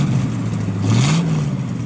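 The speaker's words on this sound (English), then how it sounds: "Sounds good out the exhaust." A 1967 Pontiac Firebird engine revs through its exhaust, close and loud, with a deep burbling note that climbs in pitch as the throttle opens and then holds high.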